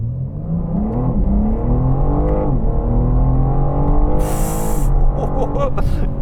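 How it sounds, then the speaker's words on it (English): A new BMW M4 engine revs up and down with a smooth rising and falling, slightly synthesized-sounding whine, heard from inside the cabin, with a brief hiss near the end. "Now I'm revving it in car, that sound does sound ever so slightly synthesized."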